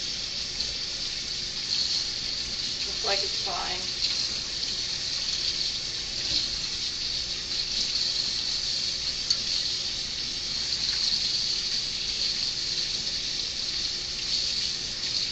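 Cold tap water runs steadily over cooked pasta for a Greek pasta salad, a continuous bright hiss and splash filling the whole stretch, with a brief voice speaking near the start.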